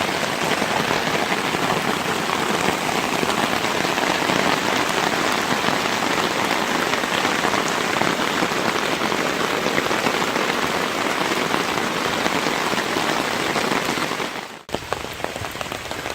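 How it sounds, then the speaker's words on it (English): Steady rain drums on the ground and gear around a wet overnight campsite at Nerstrand State Park, Minnesota, a dense continuous hiss that stays even throughout before a sudden brief cutoff near the end. "it's still raining"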